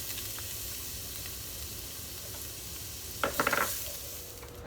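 Garlic sizzles in a pan as pasta sauce is started, a steady close frying hiss with a brief burst of louder crackle and stirring near the end; no talking.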